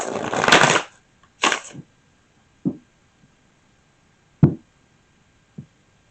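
Tarot cards being shuffled in two quick riffling bursts, followed by a few soft, scattered taps as they are set down.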